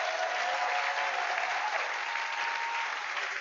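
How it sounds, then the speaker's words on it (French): A French-speaking church congregation in Geneva applauds, a dense, steady wash of clapping hands filling the room at moderate loudness for several seconds with no talking. "Est-ce qu'on peut applaudir le Seigneur?"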